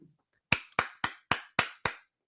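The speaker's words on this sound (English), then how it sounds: "The self round of applause." A man claps for himself: six sharp, close handclaps spaced evenly, alone in an otherwise quiet room.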